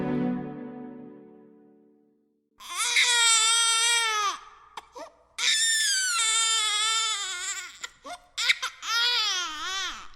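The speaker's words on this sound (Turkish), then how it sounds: "Gecenin orta yerine bir yerlerden bir bebek çığlığı düştü." A baby's cry and scream in a Turkish audiobook, heard as loud, wailing bursts with rising and falling pitch in three long stretches, following a fading musical tone at the start.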